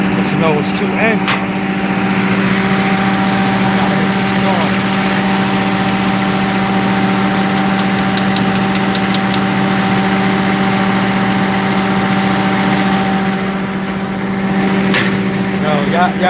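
A rough old hoopty car with two engines, one mounted in the back, idles in a steady, unbroken drone with a low hum and layered tonal whine, holding level for the whole stretch.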